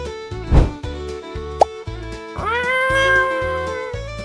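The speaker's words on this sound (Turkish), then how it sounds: "Ben bir kediyim." A cartoon cat meows twice, a short cry followed by a longer, drawn-out tonal meow, loud and close over a repeating bouncy musical backing.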